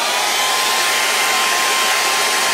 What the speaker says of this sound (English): heat it in areas with my blow dryer